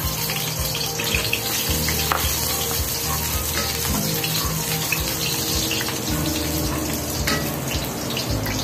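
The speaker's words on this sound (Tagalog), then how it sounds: "Simulan na tayo mag-gisa. Una, siyempre, yung ating bawang." Garlic sautéing in hot oil for a Filipino upo dish, a loud, dense, continuous sizzle and crackle that stays even throughout with no talking.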